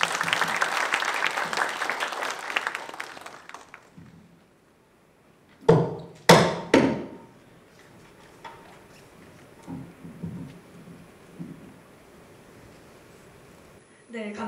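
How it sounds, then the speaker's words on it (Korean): An audience applauds startup founders at a startup demo day event, a burst of clapping that fades out, followed by a few sharp knocks and scattered softer sounds. "오늘 발표할 이 5개 기업들의 창업가들과 기업가들에게 큰 박수 부탁드리며"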